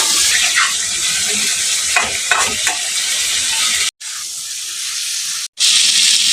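Potato and papaya sautéing in a pan for a pabda fish curry, a steady close sizzle and hiss with scraping stirs, broken by two short silent gaps.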